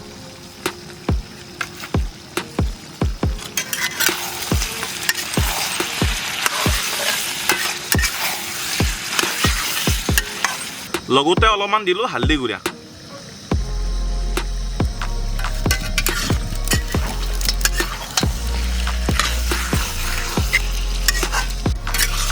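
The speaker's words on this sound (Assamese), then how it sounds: "আমি আদা ৰহুন পেষ্টটোৰ লগত মাংসখিনি অলপ ভাজি ল'লোঁ" Mutton sizzling in a pan with ginger-garlic paste, meat masala, cumin and red chili, cooked outdoors, with repeated sharp spatula scrapes and stirring over steady frying; a voice speaks briefly and a low hum enters partway.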